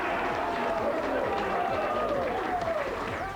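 At a 2006 Australian football semi-final between Central and the Eagles, a stadium crowd gives dense, continuous applause as the players come out. A commentator talks over it.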